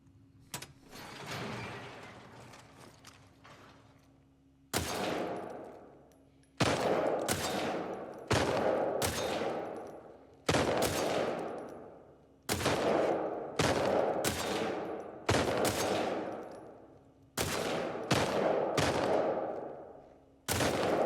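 Gunfire in a shooting contest in the video game The Last of Us: a long run of loud, sharp shots fired in quick bursts with short gaps between them, over a steady low background hum.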